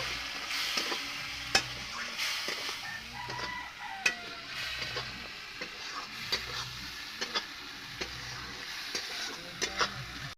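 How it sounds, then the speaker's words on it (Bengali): Spice masala for chicken frying in a pan while being stirred, a quiet sizzle broken by sharp spoon clacks and scrapes at uneven intervals, with a rooster crowing faintly somewhere in the background. "এটা ভালোভাবে আমি কষিয়ে নেব মশলাটা সব কিছু ভাজে নেব"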